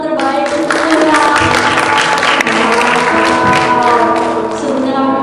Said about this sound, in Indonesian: Boleh berikan tepuk tangan terbaik untuk Tuhan.